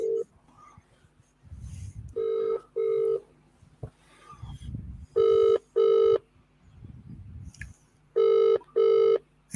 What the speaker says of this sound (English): Answer the phone, Archie.